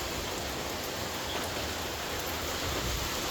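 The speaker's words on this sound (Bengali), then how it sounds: "বৃষ্টি" Rain falling steadily: an even, dense hiss of drops on surfaces at moderate level for the whole stretch, with no voices.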